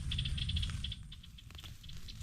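Rain falls outdoors on a calamansi farm as a steady light patter with scattered rattling drops over a low rumbling background, moderately close.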